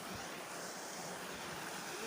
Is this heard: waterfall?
yes